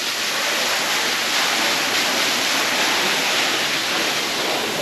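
A loud, dense, unbroken roar of falling water from a waterfall on Madeira Island, close and steady with no voices.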